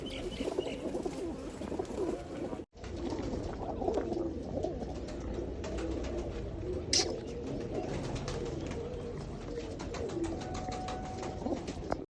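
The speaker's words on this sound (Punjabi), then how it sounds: "ਆਹ ਸਾਰੀਆਂ ਕੂਤਰੀਆਂ ਤੇ ਆਹ ਸੱਤ ਕਬੂਤਰ ਆ ਜੀ" Hazra breed pigeons, including a blue Hazra, coo steadily from close by, several birds overlapping in a continuous low murmur with an occasional faint flutter and no voices.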